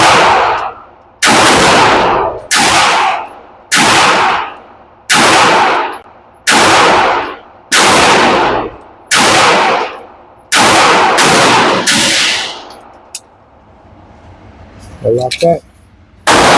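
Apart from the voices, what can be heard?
guns firing at a shooting range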